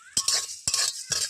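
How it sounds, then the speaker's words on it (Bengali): Cumin and coriander seeds dry-roasting in a pan, stirred in three quick bursts of scraping, rattling clatter against the metal, close up with quiet gaps in between. "এবারে আমি জিরে ভেজে নেব"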